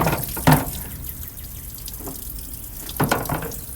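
Water drains and splashes from the disconnected water pump of a Model T Ford, a steady trickling stream broken by a few sharper splashes and drips, close up with no talking.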